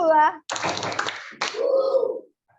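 Schoolchildren in a third-grade primary classroom clap their hands in a counted clap pattern, short bursts of close, crisp claps separated by brief pauses, mixed with a voice and a teacher speaking.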